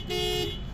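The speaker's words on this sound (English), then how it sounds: "we're gonna honk the horn" A 2024 Honda Civic Hatchback Sport Touring sounds its horn in one loud, steady tonal blast lasting about half a second, heard up close with the windows down, then cutting off into quiet.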